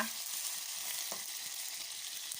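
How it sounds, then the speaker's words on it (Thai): Chinese sausage frying in a shallow pan of water, giving a steady, close hiss and sizzle with no one talking. "เป็นทอดกุนเชียงนะคะ แต่ทอดด้วยน้ำนะคะ"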